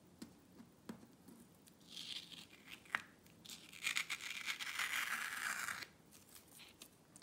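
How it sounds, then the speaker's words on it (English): Masking tape peeled off a drawing on paper, heard as quiet tearing strips with a couple of small taps first, then a longer crackling rip in the middle that stops abruptly. "Taking the tape off is the fun part. It does tend to come off in the strips that you put it on."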